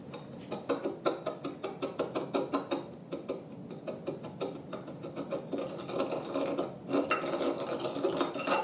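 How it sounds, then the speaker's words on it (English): Tablespoon stirring a thick, grainy sugar scrub in a bowl, giving rhythmic scraping and gritty rubbing strokes in quick repeated bursts at close range, without talk. "I'm going to use my tablespoon here to stir this one."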